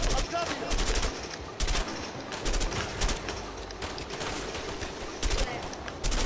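Gunfire in the A Way Out video game, repeated bursts of shots in clustered volleys at moderate loudness, with player talk faintly mixed in.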